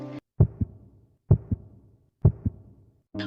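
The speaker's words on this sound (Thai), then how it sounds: "หัวใจของใบมินนั้น เต้นตึกตักโดยที่เจ้าตัวเองก็ไม่รู้เลยว่าหัวใจของตัวเองนั้นเต้นแรง" A heartbeat sound effect in an audio drama thumps in three clear lub-dub pairs at an even, slow rhythm, deep and close, with silence between beats and no voices over it.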